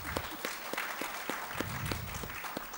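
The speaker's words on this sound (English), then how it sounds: "So could you give them a round of applause" Applause from a small conference audience thanking a panel of speakers, a brief burst of steady, fairly faint clapping from a modest crowd in a hall.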